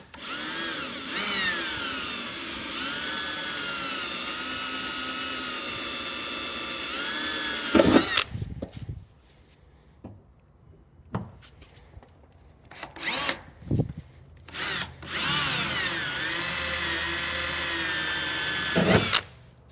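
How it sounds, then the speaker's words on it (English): A power drill with a small bit pre-drilling marked holes while a Curt custom fifth wheel installation kit goes into a Ford truck, two long whining bursts with rising and falling pitch, separated by short clunks and brief spurts. "take a small drill bit and pre-drill all of the marks that we made"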